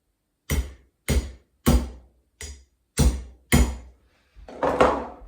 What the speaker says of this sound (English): Quick tap with a hammer just to get it down a little bit.